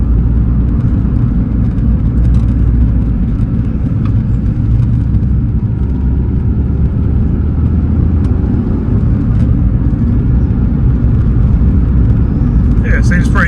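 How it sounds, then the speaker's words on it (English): A Suzuki Swift VVTS GLX engine runs while the car is driving, a steady low rumble with road noise throughout, close and continuous, with no gaps and no one speaking over it. "Engine's nice and quiet."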